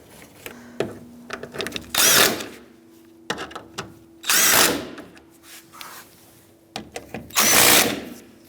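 A power tool drives AC condenser mounting bolts on a 2010-2013 Kia Soul 2.0L, with three loud whirring bursts of about a second each, separated by quieter handling noises and short pauses.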